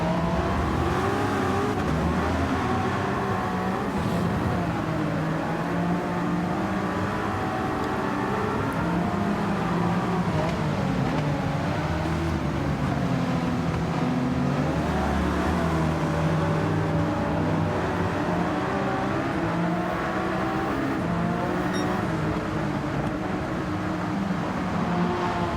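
Race car engines in Gran Turismo 7 during a wet, rainy night stint of the Le Mans 24 Hours, a sustained loud engine drone with shifting pitch sweeps as cars rev and accelerate, no speech.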